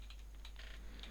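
Quick, light clicks of typing on a computer keyboard while working a crossword, a steady patter of keystrokes close by over a low steady hum.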